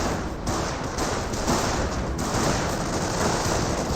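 Rapid rifle and machine-gun fire rattling nonstop in a Company of Heroes battle as troops fire on riflemen, dense overlapping bursts with occasional heavier thumps, loud and close throughout.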